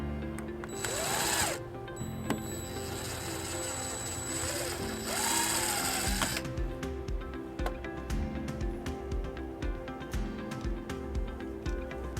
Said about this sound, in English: we'll go ahead and we'll drill that second hole.